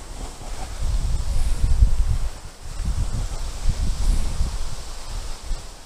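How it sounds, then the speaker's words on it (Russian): Wind gusts buffeting the microphone in low rumbling waves while fishing outdoors, with rustling leaves in the background, steady and fairly loud. "Ветер сдувает в сторону."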